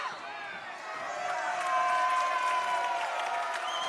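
Crowd at a women's basketball game rises into cheering and applause after a foul call, building over a few seconds and staying lively.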